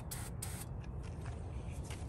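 Starter fluid is sprayed from an aerosol can into a truck's air filter in the cold outdoors, giving a couple of short, sharp hissing bursts over a low idling rumble.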